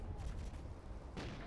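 Gunfire in the Call of Duty Ghosts multiplayer game, a dense, continuous crackle of shots with one sharper burst near the end, fairly faint and steady throughout.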